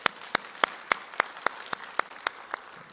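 A church congregation at a Sunday service claps in slow, evenly spaced unison beats, about ten sharp claps in three seconds, offered as praise to God after the choir's song.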